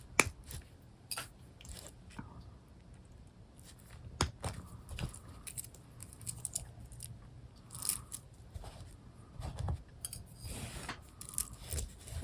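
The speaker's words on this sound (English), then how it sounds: "And I'm going to trim off those ends." Wire ends snipped off a button heart craft, with a few sharp clicks and small metallic snips scattered among quiet handling noises at close range.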